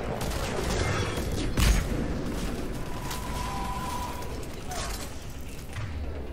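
Gunfire from an enemy Harvester in Mass Effect 3, heavy shots and impacts booming over a constant rumbling battle din, with a few sharp bursts standing out.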